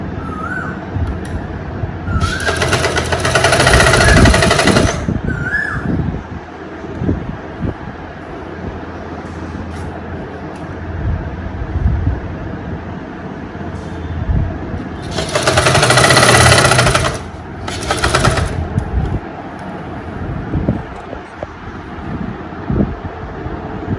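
A sewing machine runs a plain seam around the lining and main cloth of a lined top, sounding as two loud, fast mechanical stitching bursts separated by quieter background hum, with no talking.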